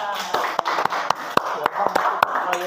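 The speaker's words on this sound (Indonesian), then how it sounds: "tepuk tangan." Hand clapping in a school classroom during a lesson on Quran verses, a series of sharp separate claps with uneven rhythm, fairly close, over faint background voices.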